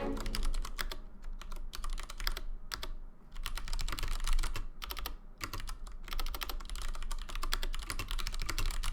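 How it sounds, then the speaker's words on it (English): A loud computer keyboard clatters with rapid, continuous keystrokes close to the microphone, sometimes pausing briefly before the clicking resumes. "I know my keyboard's super loud."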